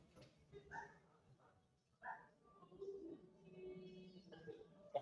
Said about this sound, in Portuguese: O cachorro tá dormindo e tá falando sozinho ali